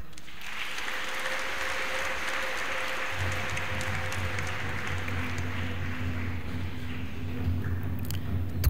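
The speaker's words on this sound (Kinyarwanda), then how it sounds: "Mubampera amashyi." A crowd applauds steadily and without a break at a church jubilee honouring priests' anniversary of ordination, with a low hum entering partway through.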